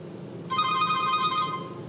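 A mobile phone ringing inside a backpack, a single steady electronic ring tone lasting about a second, muffled and close, over quiet outdoor background noise.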